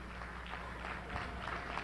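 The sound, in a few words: audience applause for Kwame Ture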